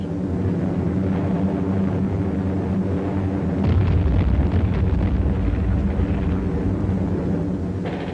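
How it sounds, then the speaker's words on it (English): Loud rumbling explosions from bombs dropped in an American and Australian air raid on Borneo in 1945, a continuous heavy roar that swells midway, with a dense low-end boom throughout. "American and Australian bombers opened up on Borneo"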